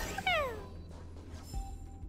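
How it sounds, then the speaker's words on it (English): A cat in Honkai: Star Rail gives one short, clear meow with a falling pitch, followed by faint rustling and a soft chime against quiet game ambience. "We got a little meow following us."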